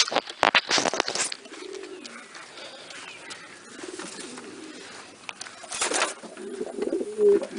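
Pigeons in a loft, including a French Loft bird, give soft low cooing calls, with some sharp rustles and wing noises, close by and without talk.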